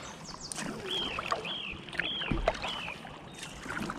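Kayak paddling on calm River Ouse water, soft rhythmic paddle strokes and gentle splashes close by, quiet, with birdsong chirping in the background.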